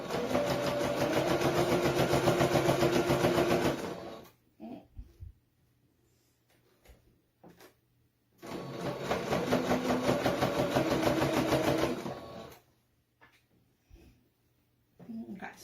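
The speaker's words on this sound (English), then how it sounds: "so basically we're just sewing down the seams and it's gonna look nice and finished." Sewing machine stitching down fabric seams, running in two loud bursts of steady rapid buzzing, each about four seconds long, separated by quiet gaps with faint handling noises.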